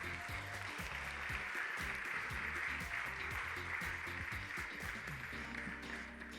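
An audience at a men's bodybuilding show, a Pro/Am competition in Arizona, applauds a novice bodybuilder with steady, sustained clapping mixed with music or crowd noise at moderate volume.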